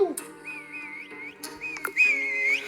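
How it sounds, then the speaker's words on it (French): Several people whistle a wavering tune while hiding during a game of hide-and-seek, a few short bursts then a longer rising whistle, close and fairly clear with faint shuffling between. "On va siffler."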